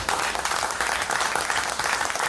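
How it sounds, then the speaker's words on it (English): A canned applause track plays as a dense, continuous wash of clapping at steady loudness, with no voices over it. "Woo, applause track."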